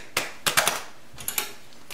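Scissors snip the tops off two packets of active dry yeast while bread is being made at home, giving a few quick, crisp close-up cuts and paper crinkles in a quiet kitchen.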